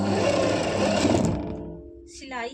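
A sewing machine runs steadily, stitching a pocket onto palazzo fabric, then stops as a voice begins briefly at the end.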